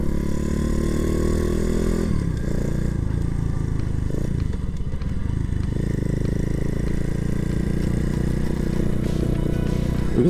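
A Gunner 100 motorcycle runs under a rider, its engine a loud, steady, close drone with a slight shift in pitch near the start, continuous throughout with heavy wind rush.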